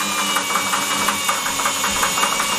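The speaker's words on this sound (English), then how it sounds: "The water's on, and I'm starting to spin it with the drill." A power drill spins a water heater cleaning tool while water runs and sediment flushes out through a garden hose. It makes a steady, loud whirring with a constant knocking rattle throughout.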